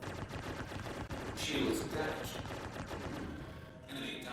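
Ship guns firing in the space combat game Star Citizen, a dense continuous rattle of rapid shots with a surge in the middle and some low rumble, with faint talk mixed underneath.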